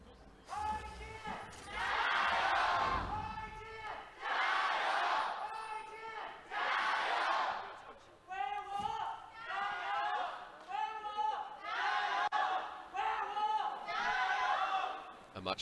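A large esports arena crowd at an LPL League of Legends match in Hongqiao, China, chants in loud rhythmic unison waves, repeated bursts rising and falling with short pauses between them.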